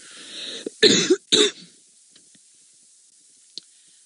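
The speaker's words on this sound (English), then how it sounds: "Sorry, I'm going to cough again." Two harsh coughs in quick succession, close by, followed by quiet with a few faint clicks.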